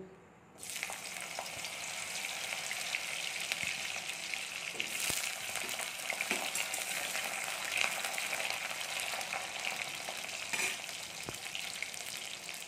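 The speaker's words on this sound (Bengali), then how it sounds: "এবার আমরা সবজিগুলোকে একটা একটা করে ভেজে নেব।" Vegetables for shukto drop one by one into hot oil, setting off a loud, dense sizzle that starts abruptly and crackles on steadily with occasional pops and stirring scrapes.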